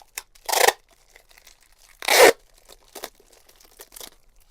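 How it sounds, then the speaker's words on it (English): Packing tape pulled off the roll and torn while sealing a lid for shipping, two long loud ripping strips followed by shorter tearing bursts, close up. "And then we're going to tape it on there so that lid will not move."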